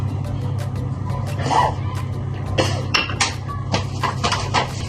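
A utensil clinks and scrapes against a bowl while chocolate cake batter is stirred, irregular clattering taps over a low steady hum, with no speech.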